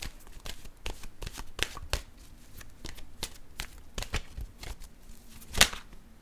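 Tarot deck being shuffled by hand, a close, steady run of crisp riffling flicks and card slaps, with one louder snap near the end and no talking.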